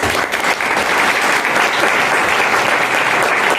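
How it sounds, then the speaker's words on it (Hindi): A church congregation claps steadily for India at an Independence Day service, a dense, even burst of applause from a roomful of people, loud and close with no voices over it. "क्यों ना आप एक बार अपने देश के लिए ताली बजाएं।"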